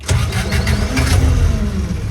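A fuel-injected Honda 1.5 liter 16-valve four-cylinder cranks and fires up nearby, the loud starter churn rolling straight into a rough, pulsing idle.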